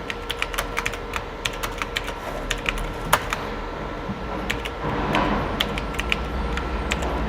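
Steady typing on a computer keyboard during a Microsoft Word 2010 lesson, a run of crisp, close key clicks at an even pace with a few louder taps, over a low room hum and no talking.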